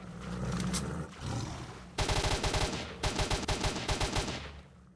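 Rapid gunfire in STALKER: Shadow of Chornobyl, loud bursts of repeated shots in quick rhythmic volleys after a low rumbling roar, with a brief pause between bursts.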